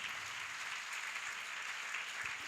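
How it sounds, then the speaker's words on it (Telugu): A church congregation at a Sunday service claps in steady, dense applause that carries on without a break. "కోట చప్పట్లు గట్టిగా"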